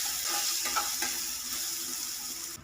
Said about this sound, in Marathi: आता यामध्ये अर्ध्या चमचापेक्षा कमी अशी हळद घालूया देखील छान भाजून घेऊया